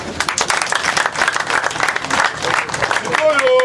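A crowd at a UDPS party meeting claps for the lifeguards in a dense, lively burst of applause, with voices mixed in near the end.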